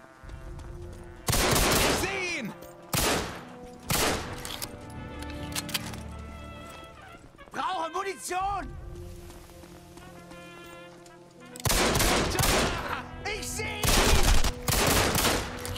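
Automatic gunfire in the first-person shooter Enemy Front, loud rapid bursts that start and stop across the scene, with gaps carrying other game sounds and effects.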